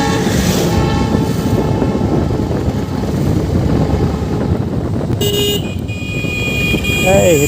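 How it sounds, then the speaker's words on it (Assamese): A train rolls past with a heavy, continuous rumble and sounds a horn midway, heard near a road in Assam over wind noise while someone talks. "ৰেলো আহিছে"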